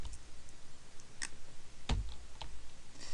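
A handful of sharp, separate computer keyboard key clicks, spaced irregularly and fairly close, sound during a session of the platform game I Wanna Be The Guy, with a low room hum between them and no talking.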